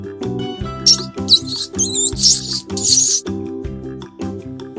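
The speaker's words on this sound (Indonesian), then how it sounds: "tikus" Several short, high-pitched mouse squeaks come in quick bursts over a bouncy musical backing.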